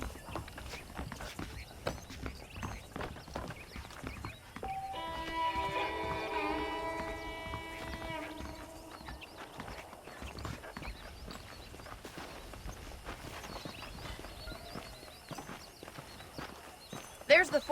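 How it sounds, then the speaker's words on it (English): Horses' hooves clip-clopping in the Western video game Red Dead Redemption, a steady soft patter of steps at moderate distance beneath someone talking and some ambient tones. "The horses are saddled up over here."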